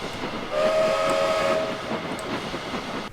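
A steam-style train whistle sounds as a train emerges from a mountain tunnel at night, a sustained tonal blast held for about a second over low rumbling rail noise, moderately near and loud.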